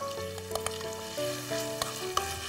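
Sliced clam meat stir-fried with garlic in a hot pan, giving a steady close sizzle with a few sharp clinks and scrapes of a utensil stirring.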